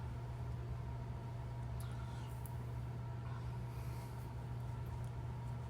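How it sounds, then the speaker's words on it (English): A UPS delivery truck rolls past outside at a Dallas pop-up event, its steady low engine drone holding constant throughout with faint traffic hiss above and no one speaking. "hold on, there's a UPS truck."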